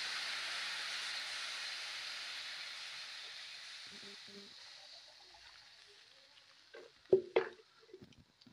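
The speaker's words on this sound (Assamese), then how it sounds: "জোখত পানীটো দি দিছোঁ মই" Water poured into a hot pan of fried dhekia fern gives a loud, steady hiss and sizzle that slowly dies away, followed by a few close clatters near the end.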